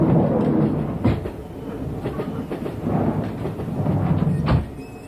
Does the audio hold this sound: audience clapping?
no